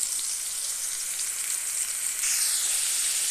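An onion frying in rendered duck fat in a pan, a loud, steady hiss of sizzling that swells slightly near the end, close and uninterrupted with no talking.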